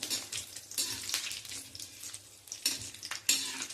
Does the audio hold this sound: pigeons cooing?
no